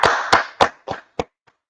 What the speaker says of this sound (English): Let's clap it up for the Most High in Christ.